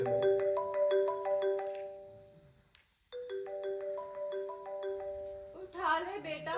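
A phone ringtone plays a repeating melodic chime close by, one phrase, a brief gap, then the tune again, before voices break in at the end.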